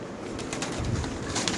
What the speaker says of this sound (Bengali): এক জোড়া শেড হেল কবুতর খুব সুন্দর আল্লাহর মতে